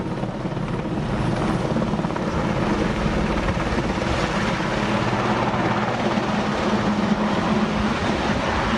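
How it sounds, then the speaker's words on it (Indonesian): A BNPB water-bombing helicopter works over a landfill fire at TPA Sarimukti in West Bandung. Its rotor and engine make a loud, steady, throbbing drone that runs unbroken from start to end, with no talking. "Proses pemadaman menggunakan helikopter waterbombing milik BNPB untuk menjangkau titik api yang sulit dipadamkan petugas."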